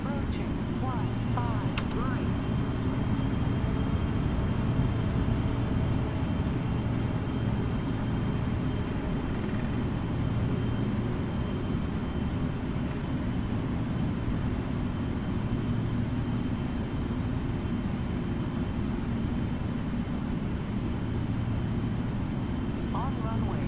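A PMDG 777 airliner rolls for takeoff in a flight simulator, its jet engines a steady loud low roar, with brief clicks and a voice now and then over it.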